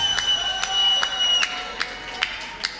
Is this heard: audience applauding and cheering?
yes